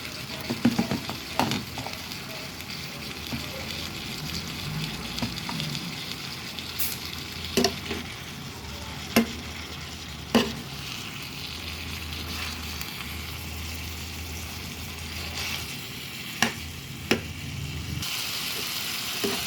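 Chayote and carrots sauté in a hot pan with a steady, moderate sizzle, broken by occasional sharp clicks and scrapes of a utensil against the pan.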